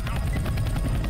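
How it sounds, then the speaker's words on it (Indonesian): Helicopter arriving in the video game Left 4 Dead 2, a brief rapid rotor chop with a low throbbing hum, moderately loud and steady. "Helikopter nyampe."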